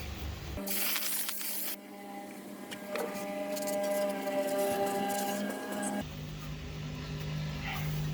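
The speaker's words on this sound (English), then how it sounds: "Now I am going to spray this down with some brake cleaner real quick." An aerosol can of brake cleaner sprays in two bursts on a Nissan Frontier differential, a sharp hiss at the start and another later, with a humming motor tone running between them.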